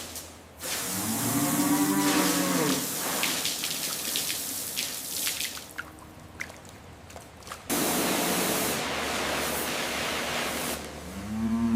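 Loud, drawn-out moos from red and white cows, one long call followed by another after a pause, over a constant hiss like spraying water.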